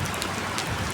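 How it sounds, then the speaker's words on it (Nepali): Heavy rain pours down in Saudi Arabia, a steady dense hiss of drops striking surfaces close by, unbroken and loud from start to finish with no voices. "एकदमै ठुलो पानी परिरहेको अवस्था छ यति बेला।"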